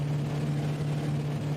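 Steady drone of the Inibuilds BF-108 aircraft engine in Microsoft Flight Simulator, a constant low hum with a strong fixed tone, alone and unchanging for a moment.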